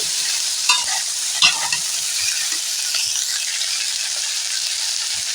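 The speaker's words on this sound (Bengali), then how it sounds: "এর সঙ্গে আমি দিয়ে দেবো কুমড়োর সাথে ডাঁটা একসাথে নাড়ব" Snails being stirred with pumpkin greens and stalks in a frying pan, a steady bright sizzle with scraping strokes of a spatula and a couple of sharper clinks, alone without talk.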